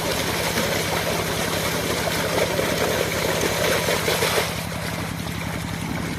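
A 6-inch water pump's small engine runs steadily at idle with a constant low drone and rapid mechanical thumping, loud and close, with splashing water noise on top.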